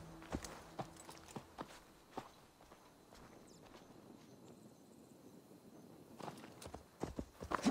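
In Assassin's Creed Valhalla, horse hooves clip-clop in quiet, scattered steps. A faint stretch of ambience follows, then the hoofbeats return as a quicker, louder cluster at the end.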